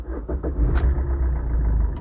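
A car engine cranks and catches after an oil change, settling into a steady low rumble close by with a brief higher burst near the start.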